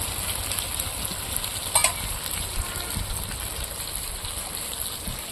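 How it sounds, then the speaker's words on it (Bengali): Hot water is poured into a pan of Bengali chicken kosha masala, producing a steady broadband sizzle and hiss with a brief louder splash partway through, alone with no talk. "এবার আমি জল দিয়ে দেবো"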